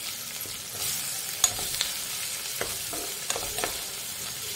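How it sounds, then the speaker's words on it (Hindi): Ginger garlic paste frying in a pan for an Indian egg chilli, a steady soft sizzle with a few sharp clicks and scrapes of stirring, close and alone. "इसके बाद हम इसमें ऐड कर देंगे बिस्मिल्लाहिर्रहमानिर्रहीम अदरक लहसुन के पेस्ट को।"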